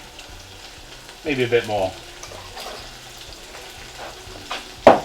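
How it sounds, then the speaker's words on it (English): Spices with about a teaspoon of cayenne pepper fry and get stirred around in a pan for laksa, a soft sizzle with scraping stir strokes beneath a brief spoken remark and a sharp clatter near the end. "we're just going to move that around and cook it off. Just to cook off our spices"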